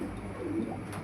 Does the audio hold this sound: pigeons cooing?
yes